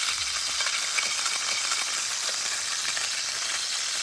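Chicken sautéing in hot oil in a pan, a steady, close, bright sizzle with light crackle running throughout, no voices.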